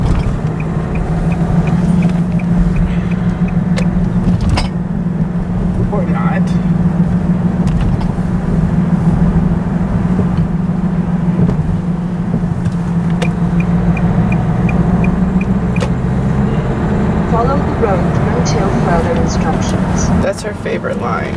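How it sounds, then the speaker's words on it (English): Car cruising on the German autobahn, a steady loud engine and road drone heard from inside the cabin, with voices talking over it throughout. "And now we're getting on the autobahn."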